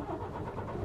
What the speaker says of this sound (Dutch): We gaan de motor starten. En door middel van de sleutel.